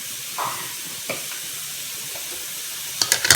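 Onions sautéing in a pan with salt, a soft continuous sizzle with a few light stirring scrapes and brief utensil clicks near the end.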